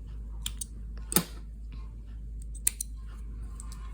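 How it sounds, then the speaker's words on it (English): Scissors snip the loose yarn end of a crochet bucket hat, with a few sharp, close cuts spaced apart over a quiet background. "grab your scissors and just cut it off"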